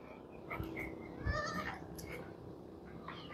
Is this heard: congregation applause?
no